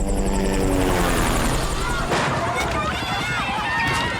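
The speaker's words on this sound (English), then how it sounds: "That's his helicopter landing!" A helicopter thunders close and loud in a film scene, its rotor beating in a fast steady chop with a whining turbine, continuous throughout.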